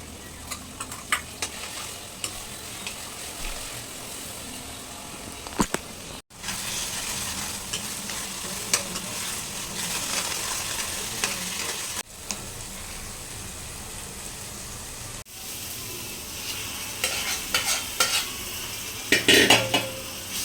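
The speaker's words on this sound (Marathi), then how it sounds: "आता टाकणार आहोत हे वाटण मस्त." Ground spice paste hitting a hot pan and being stirred, a continuous loud sizzle with scraping and clinking of a spoon against the pot, broken by a few brief cuts, without talk.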